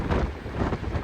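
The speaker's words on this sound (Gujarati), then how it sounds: "જોઈ કેવો પવન આવે" Wind from a moving train crossing the Rajasthan desert buffets the microphone in a brief, loud, dense low rumble with no talking.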